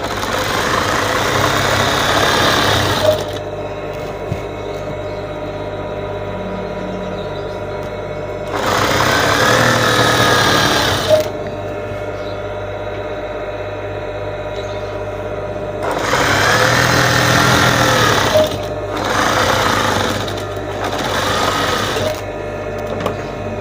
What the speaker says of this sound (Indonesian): Setelah kita jahit sisi kanan dan kiri seperti ini